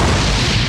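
A Burning Blast ability explosion in a Roblox game, a dense, loud roaring burst of broadband noise that fills the whole moment with a heavy low rumble, with no talk over it.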